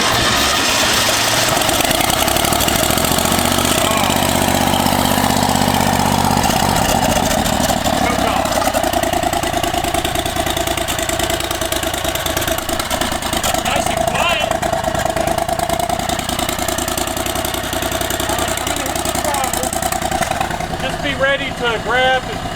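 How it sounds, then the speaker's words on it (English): Turbocharged Predator 670 lawn mower engine fitted in a VW Beetle, running steadily and loudly nearby for a long stretch with a constant droning roar and rough mechanical clatter, with people talking over it. "Turbo Predator 670, first fire up."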